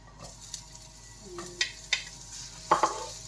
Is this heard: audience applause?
no